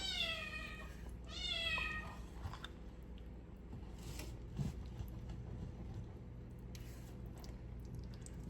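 A cat meows twice in quick succession near the start, close and clear, then falls quiet while soft handling noises and a faint creak continue over a low background hum.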